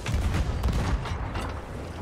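A ship's cannon broadside in the Sea of Thieves video game lets off a rapid cluster of muffled booming blasts over rumbling noise, briefly and at moderate loudness.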